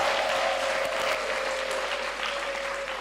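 Steady, dense applause fills a church conference hall at a worship gathering, a continuous wash of many hands clapping at even loudness throughout, with a faint sustained tone running underneath.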